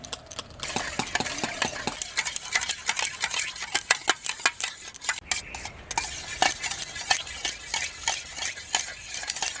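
Yogurt whisked by hand in a bowl for a fruit cake batter, a fast steady run of close clicking and scraping strokes that carries on without pause.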